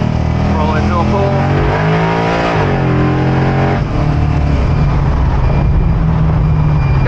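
Pickup truck engine while driving in traffic, a loud steady drone inside the cab with rising and falling revs through gear changes and a constant road roar throughout.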